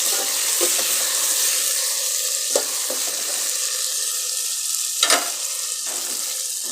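Chicken curry ingredients fry and get stirred in a pan. A steady sizzle runs throughout, with a few louder scrapes or stirs near the middle and end. No one speaks.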